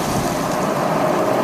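Steady, dense rush of water spray rinsing a car inside an express car wash, a continuous loud hiss with no pauses and no voices.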